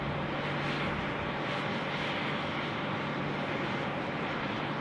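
A Rex Airlines plane arriving and rolling along runway 34 left at Sydney Airport, heard as a steady broadband engine roar that holds even throughout, heard from a distance with no talking.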